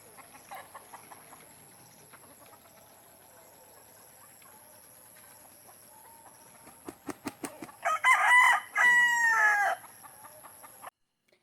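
Gamefowl chickens cluck quietly in the background at a game farm, then a rooster crows loudly nearby, a long strained call after a few sharp clucks.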